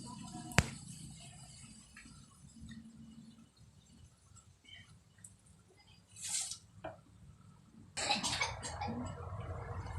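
A single sharp cough bursts out near the start, followed by quiet low background rumble and a few faint clattering sounds later on.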